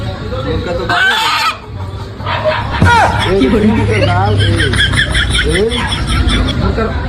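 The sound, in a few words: rooster clucking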